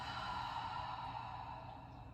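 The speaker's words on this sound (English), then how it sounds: "Take a deep breath. Open mouth, exhale." A deep, open-mouthed exhale during a restorative yoga session, a long steady breathy rush of air held close and continuous for about two seconds, easing off slightly at the end.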